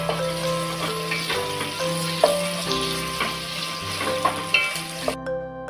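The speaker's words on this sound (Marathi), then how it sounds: "एक बारीक चिरलेला टोमॅटो हा सुद्धा आपल्याला एक दोन मिनटं परतून घ्यायचा" Finely chopped tomato sautéed with onion for a village-style Maharashtrian chicken rassa, a steady sizzle with a spoon stirring and scraping the pan at close range, hum-like tones running beneath.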